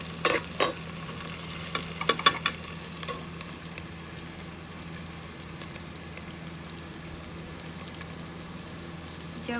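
Onions and spices browning in a pot for vegetable pulao, a steady sizzling hiss with a cluster of sharp spoon scrapes and knocks early on, then settling into even frying, no speech.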